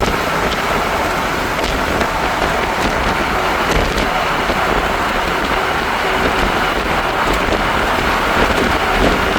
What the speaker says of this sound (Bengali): পাশাপাশি ইঞ্জিন সাউন্ড কেমন সে বিষয়টি কিন্তু আপনারা বুঝতে পারেন